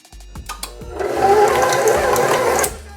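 An electric mixer whirs on low through cookie dough for a few seconds, a steady close motor hum after a couple of brief clicks at the start.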